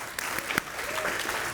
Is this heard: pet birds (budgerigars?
no